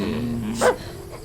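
A dog in the Hello Neighbor 2 video game makes a short huffing breath over a steady low game hum, one brief close burst amid a droning background.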